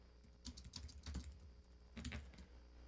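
Typing on a computer keyboard during a live stream, quiet bursts of key clicks in short irregular clusters, close and alone without speech.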